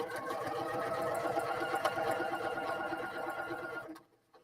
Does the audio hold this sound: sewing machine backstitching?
yes